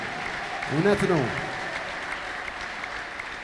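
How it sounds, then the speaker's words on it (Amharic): A church congregation claps as a steady wash of applause under a voice that speaks and briefly sings over it. "ለኢየሱስ ክርስቶስ ክብር አጨብጭቡ"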